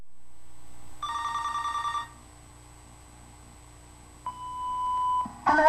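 A telephone bell rings in a steady burst for about a second, then a single electronic beep tone sounds before an answering machine message begins.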